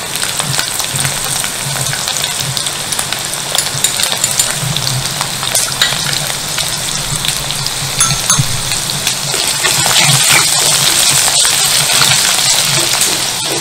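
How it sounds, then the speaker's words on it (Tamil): Garlic frying in hot oil with mustard seeds, urad dal and fenugreek for thuthuvalai kuzhambu, a dense continuous sizzle and crackle that grows louder and brighter toward the end. "இப்போ பூண்டு ஆட் பண்ணுறேன்"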